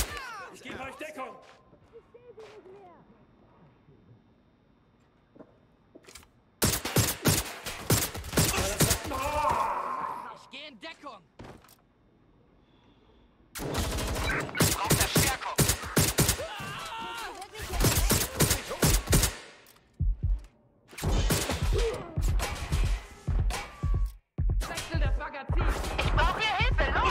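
Gunfire in the video game Watch Dogs: Legion comes in several loud, rapid bursts with quieter gaps between them, and voices speak throughout.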